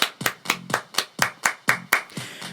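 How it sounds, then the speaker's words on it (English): Rhythmic group hand clapping led from a stage, nine sharp, evenly spaced claps at a brisk, steady beat, the last one softer, with no talking over them. "Everybody clap your hands."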